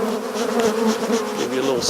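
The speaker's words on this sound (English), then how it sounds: "Get the bees away from the camera. Some bees just do not like the camera." Honeybees buzz loudly and close around the camera during a spring hive inspection, a dense continuous drone with wingbeats flickering as bees dart near the lens.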